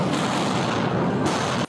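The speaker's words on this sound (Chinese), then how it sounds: "下一秒还有爆炸声转移注意" A loud, close blast going off as police clear a building at Columbia University, a sudden harsh burst with a rumbling roar that cuts off sharply.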